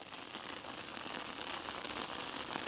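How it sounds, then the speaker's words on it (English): Steady rain falls outdoors, an even wash of dense patter that holds at a constant level for the whole few seconds, with no voices. "And now the rain has really, really started."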